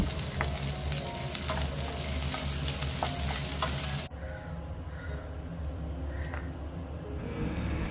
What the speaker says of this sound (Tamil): வெங்காயம் ஓரளவுக்கு வதங்கின உடனே இஞ்சி பூண்டு பேஸ்ட்டு சேர்த்து நல்லா வதக்கிக்கலாம்.